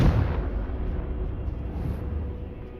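A Confringo spell blast in the video game Hogwarts Legacy: a sharp burst at the start that fades into a lingering low rumble, loud and close.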